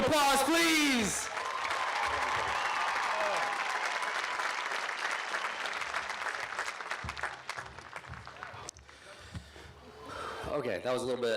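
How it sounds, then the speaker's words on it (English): Sustained applause fills a high school graduation ceremony, steady and broad through most of the stretch before tapering off, with a voice over a loudspeaker at the start and end. "Another round of applause, please."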